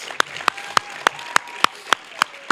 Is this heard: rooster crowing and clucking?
no